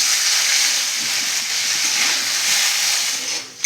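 Paneer frying in a hot wok, a loud, dense, steady hiss close up that holds almost unbroken and drops away briefly at the very end.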